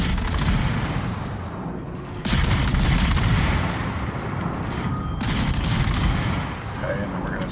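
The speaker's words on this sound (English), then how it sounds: "So, now I can switch to rest. Get some shots off of him before he goes behind the island." Naval gunfire from a Minotaur warship in the video game World of Warships: a dense, continuous roar of booming cannon salvos and explosions, loud and unbroken throughout with surges in intensity.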